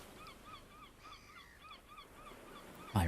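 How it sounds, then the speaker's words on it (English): Faint, repeated honking seagull calls in a video game, in a quick rhythmic series over soft background noise, ending with a sudden louder thump. "I really love the sound of those seagulls."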